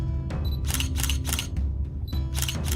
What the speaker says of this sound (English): taking some pictures on our big camera.